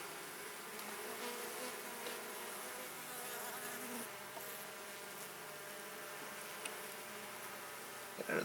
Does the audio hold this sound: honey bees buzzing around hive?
yes